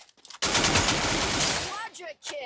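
Rapid automatic gunfire from the mobile battle royale game Free Fire, a dense sustained burst of shots lasting over a second, followed by fainter game sounds and pings.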